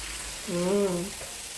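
Steady frying hiss from a pan of margarine and pepper, with a brief swell of sizzling as water is poured in, then a settling back to a low, constant crackle.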